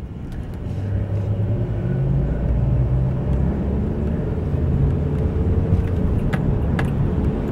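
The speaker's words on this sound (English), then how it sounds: "And I'm stuck in traffic." Steady low rumble of a car's engine and road noise heard from inside the vehicle while stuck in downtown traffic, continuous and close, with no talking.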